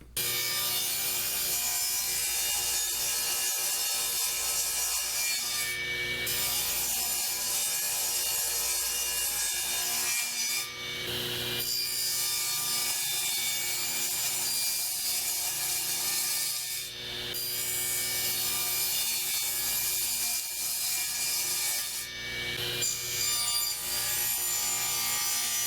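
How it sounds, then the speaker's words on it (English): Continuous rasping wood-cutting noise as a 1/4 inch rabbet is cut around the edges of wooden raised panels for a desk cabinet, steady and close with a few brief pauses between passes. "put a 1/4 inch rabbet all the way around each one of these pieces"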